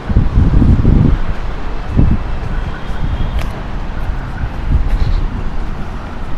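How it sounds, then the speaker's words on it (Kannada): Strong wind gusting across the 15th floor of a long-abandoned high-rise, roaring and buffeting the microphone loudly and continuously, with rustling and a few brief surges. "ಇವಾಗ ಎಷ್ಟು ಗಾಳಿ ಹೊಡಿತೈತೆ ಅಂದರೆ 15th ಫ್ಲೋರ್ ಇದು"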